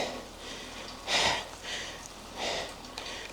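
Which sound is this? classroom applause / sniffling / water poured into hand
sniffling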